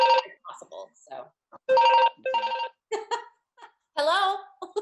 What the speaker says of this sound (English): It's our other phone going.